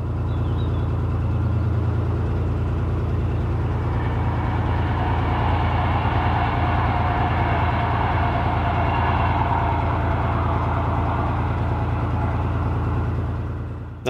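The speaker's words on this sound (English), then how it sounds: "That was the first of many trains I encountered on this trip." Train passing beside the North Oxford Canal, a loud, continuous low rumble with rattling wagon noise that holds steady for the whole stretch and trails off at the end.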